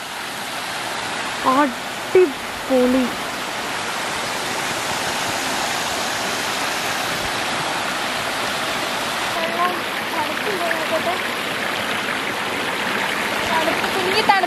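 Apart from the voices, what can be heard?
small waterfall and stream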